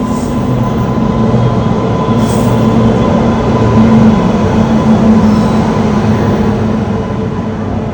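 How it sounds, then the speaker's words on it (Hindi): A fast express train pulls into a station in India, a loud, steady close rumble of wheels and carriages rolling past with faint squeal, continuing without a break. "So our train is here."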